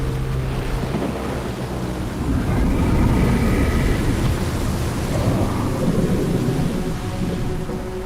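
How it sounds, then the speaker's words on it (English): A thunderstorm in Genshin Impact rumbles as deep, rolling thunder over a steady wash of rain and wind, loud and continuous, swelling in the middle, with no voices. "The storm is approaching."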